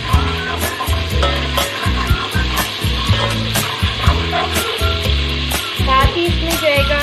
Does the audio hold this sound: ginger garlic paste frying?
yes